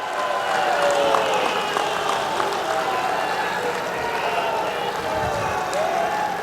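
Loud, sustained applause from a large crowd at a public rally, with a continuous dense wash of clapping and crowd noise that does not pause.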